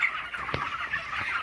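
Broiler chickens on a farm give soft, scattered clucks against a quiet shed hum, with a few brief calls standing out over a second and a half.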